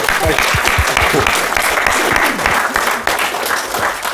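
Sustained audience applause after a talk at the Carto-Cymru 2025 conference, a dense, steady wash of many hands clapping close and loud for several seconds, with a few sharper individual claps standing out near the start.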